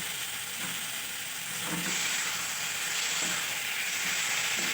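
Fried potatoes and cauliflower sizzle with spices in a pan as they are stirred. A steady, fairly loud hiss runs throughout, broken by occasional scraping stirs, with no voices.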